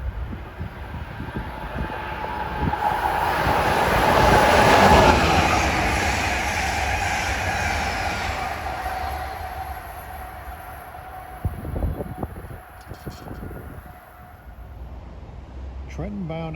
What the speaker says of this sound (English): Next up right away is Amtrak 665, the Keystone from New York to Harrisburg